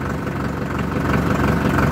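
A Sonalika 750 tractor engine idles just after starting, a loud, steady diesel rumble with a fast, even knocking pulse throughout.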